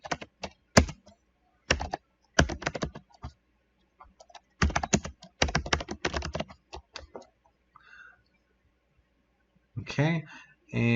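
Bursts of typing on a computer keyboard, quick clusters of clicks separated by pauses, close and fairly quiet, with a brief voice near the end.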